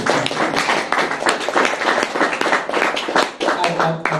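Audience applause following a book reading at a Seattle event, a dense wash of many hands clapping steadily for several seconds at moderate loudness, with faint voices mixed in.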